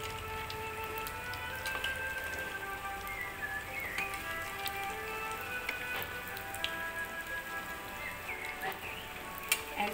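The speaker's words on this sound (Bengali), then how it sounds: "একদম ডুবো তেলে ভাজলে ব্যাপারটা আরো সুন্দর হয়" Gulab jamun deep-frying in hot oil, giving a steady crackling sizzle with dense pops and ticks throughout and no voices over it.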